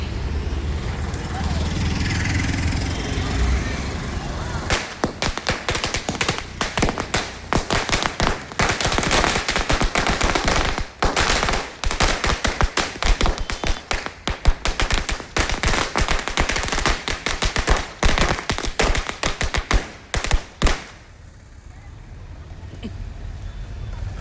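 Long string of firecrackers bursting during an Ayudha Puja celebration in rapid, crackling volleys for about fifteen seconds, loud and nearby, then fading to background noise.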